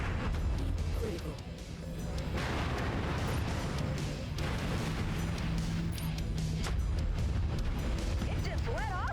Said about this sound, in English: Got an ammo explosion on him.